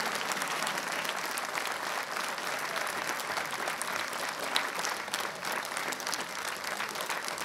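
Steady applause from a concert audience at a cultural centre in Brașov, dense clapping sustained throughout at moderate distance with no talk over it.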